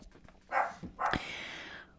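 Dogs barking close by, two sharp barks about half a second apart, the second trailing into a longer ringing yelp that fades out.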